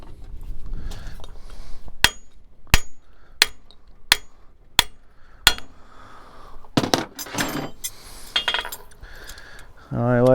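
A blacksmith's flatter struck with a hammer while forging a hoof pick from a used horseshoe, giving a series of sharp metallic rings at a steady rhythm, then a burst of rapid clinks and scraping near the end.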